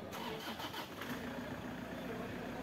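A Toyota Hi-Ace engine cranks and catches during a radiator replacement, a brief starter churn that settles into a faint, steady idle rumble.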